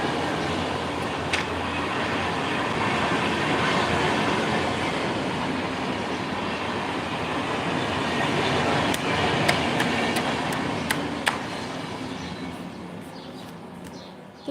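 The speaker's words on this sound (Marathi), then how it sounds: "माझी ट्रेन आली" A train rumbles past close by for a long stretch, a steady roar with wheel clatter and a few sharp metallic clicks near the end.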